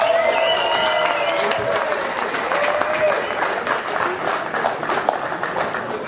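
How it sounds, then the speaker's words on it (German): Arena crowd applauding two boxers after a charity pro boxing bout, loud sustained clapping and crowd noise throughout, with a voice briefly audible over it. "Meine Damen und Herren, Applaus für die beiden Kämpfer."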